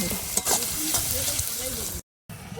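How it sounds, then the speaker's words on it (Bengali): Garlic paste fries in a pan with a loud, close, steady sizzle and occasional stirring scrapes, cutting out briefly near the end before resuming. "ভালো করে রসুনটা কষে নিতে হবে, রসুনের মধ্যে যে কাঁচা গন্ধটা থাকে যেটা না থাকে, ভালো করে ভেজে দিতে হবে"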